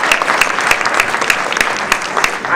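A burst of steady applause, many hands clapping together with a few sharper individual claps standing out.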